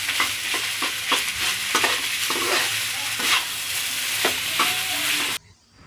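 Rice and jengkol are stirred in a hot frying pan with sweet soy sauce, producing a steady sizzle broken by repeated rhythmic scrapes and clacks of the spatula before the sound cuts off abruptly.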